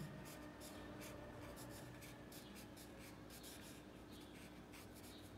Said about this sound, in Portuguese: usando a ponta chanfrada do teu marcador